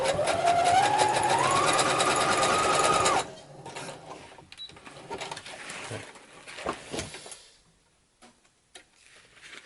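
A sewing machine runs fast and steady while stitching an X-Wing pilot belt harness, a loud whirring rattle whose pitch climbs briefly and then stops abruptly, followed by quieter clicks and handling noises.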